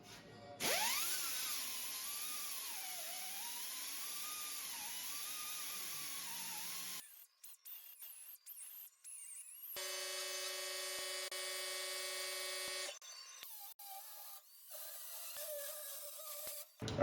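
A piece of 1/8 inch steel is cut in a workshop, giving a loud, sustained high-pitched whine for several seconds, then a pause with light clatter, followed by a second steady shrill buzzing cut and further intermittent noise.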